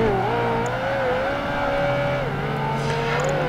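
Ferrari 360 Challenge Stradale in the racing game PGR2, engine droning steadily at high revs with smooth pitch shifts as it races, loud and continuous throughout with no talking.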